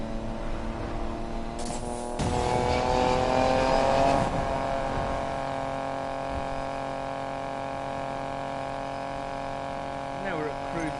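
A car engine in the Need for Speed Payback video game drones steadily at cruising speed with a brief louder surge early on, and someone speaks faintly near the end.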